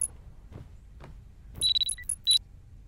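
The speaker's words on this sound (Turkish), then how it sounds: "alarm çalıyor" An alarm in the video game Parasocial gives a few short electronic beeps in a quick, irregular burst near the end, preceded by soft thuds and a quiet background.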